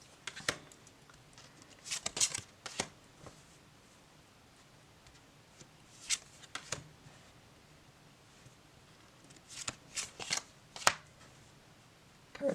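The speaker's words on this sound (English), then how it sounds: "Cards want to slip and slide everywhere." Fairytale tarot cards being handled and shuffled, scattered bursts of soft flicking and sliding clicks separated by quiet gaps, close and fairly faint, with no voices.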